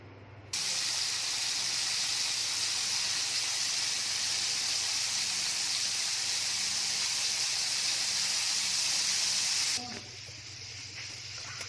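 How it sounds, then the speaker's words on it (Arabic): Breaded pieces slide into hot oil and set off a loud, steady frying sizzle that holds for about nine seconds, then drops away abruptly near the end. "وطبعا الزيت عندنا سخن وهنحط على طول في الزيت"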